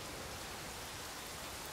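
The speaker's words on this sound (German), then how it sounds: "es regnet" Rain in the video game Ghost Recon Wildlands: a steady, even hiss of falling rain, faint and continuous throughout, with no voices or other sounds.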